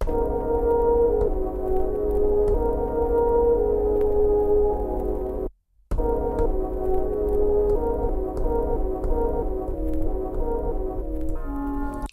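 Sampled tones from Akai MPC pads in mono play back to back, each new hit cutting off the one before, with a brief silent gap midway and a change of pitch near the end.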